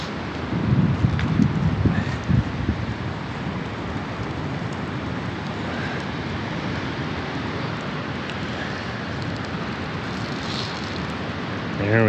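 Steady roar of strong wind, gusting through trees in a burned forest and buffeting the microphone, with leafy rustling sustained throughout.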